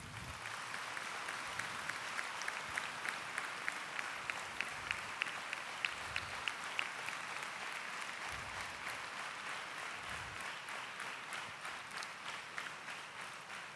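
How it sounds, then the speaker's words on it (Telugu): A crowd of devotees at a Sai Baba gathering in Puttaparthi claps together in sustained, steady applause, with a rhythmic beat running through it and no voices on top. "మనమందరం చప్పట్లతో వారికి మనం శుభాకాంక్షలు తెలియచేద్దాం"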